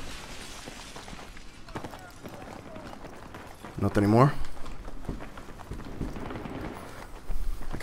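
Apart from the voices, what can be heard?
footsteps in Battlefield 3 video game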